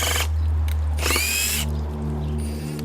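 A Hikoki hydraulic impact driver driving a screw in short bursts: a loud, close whirring motor with a smooth, muted hammering texture, stopping and restarting three times.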